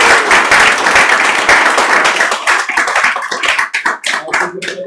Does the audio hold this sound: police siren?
no